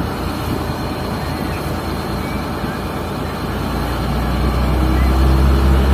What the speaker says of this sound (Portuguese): Lancha Marangon.